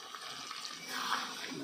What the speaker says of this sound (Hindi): देखिए पानी डाल दिया